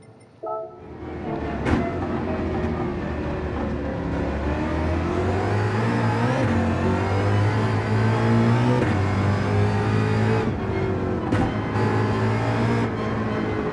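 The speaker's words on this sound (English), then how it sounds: "I only go full throttle when I'm exiting." A race car engine at full throttle on corner exit gives a loud, sustained harmonic drone whose pitch climbs and shifts through the run, with no talking.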